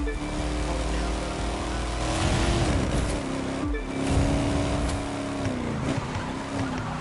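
A race car engine in The Crew 2 drones loudly and steadily, dipping and climbing in pitch through gear changes and revs, with an engine note that sounds heavy. No talk is heard.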